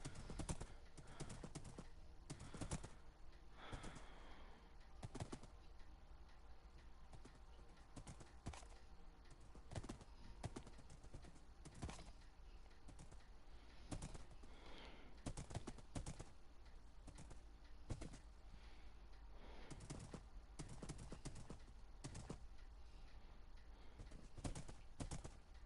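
Horse hooves clip-clopping in a blocky sandbox video game, a quiet and steady stream of hoof clops with sharp, irregular clicks over a faint background hum.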